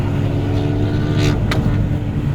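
A Renault Mégane 4 RS roars loudly on a Catalan road, its engine droning steadily at close range with a couple of brief sharp bursts partway through.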